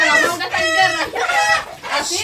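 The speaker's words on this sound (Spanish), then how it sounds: "Déjenme la gallina." A chicken clucks in short bursts close by, loud and busy, with people talking and shouting around it.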